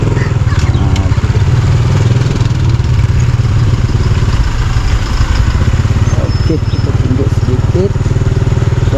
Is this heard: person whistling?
no